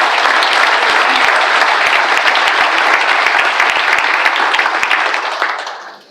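A large audience at an upstanders event breaks into sustained, dense applause, a steady wash of many hands clapping close and loud that holds for several seconds before tapering off at the end.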